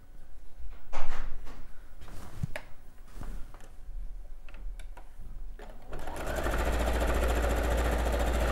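A sewing machine stitching large quilt blocks together runs as a steady, continuous whir through the second half, preceded by some softer handling and fabric movement at close range.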